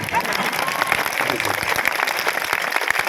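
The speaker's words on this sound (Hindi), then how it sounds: "ताली तो बहुत कम बज रही।" A gathered audience at a religious discourse claps in a loose, uneven patter, individual hand strikes audible within a moderate, continuous wash that carries on throughout.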